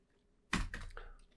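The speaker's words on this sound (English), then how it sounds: "First, I'm gonna be typing try and catch." A brief burst of typing on a computer keyboard: a few quick, close key clicks clustered together after a moment of near silence.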